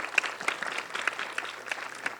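Applause from a conference audience at a Los Angeles fashion and beauty event, a steady patter of many hands clapping close by, dense and continuous for a couple of seconds with no voices over it.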